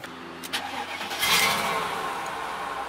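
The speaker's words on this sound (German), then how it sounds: "Guck mal, wie er startet hier." An old Mercedes-Benz car engine starts: a few brief cranking clicks, then it catches with a swelling roar and settles into a steady run, fairly quiet and close, with no talking.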